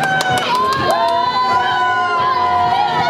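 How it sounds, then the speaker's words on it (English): A crowd cheers at the finish of a Canadian triathlon and marathon race, with high whoops and shouts rising and falling in a lively, close swell. "a lot of cheering going on over here"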